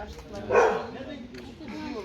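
A dog gives a single short bark near the start, close and fairly loud, amid a noisy home setting with people speaking around it.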